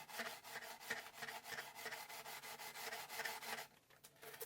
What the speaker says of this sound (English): So by hand, I'm going to very carefully sand those. You can hear it hitting.